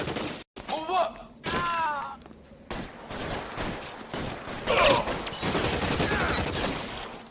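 Bursts of gunfire in the video game L.A. Noire, quick volleys of shots mixed with shouting voices and thuds during a chaotic shootout.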